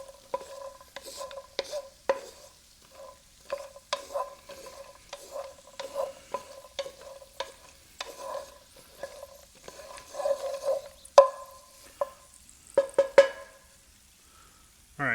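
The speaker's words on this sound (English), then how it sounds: "Sorry about the scraping, but I needed a spotted spoon." A spoon scrapes and stirs in a pan of cashew chicken, giving repeated sharp, close metallic scrapes in an irregular rhythm over a light sizzle.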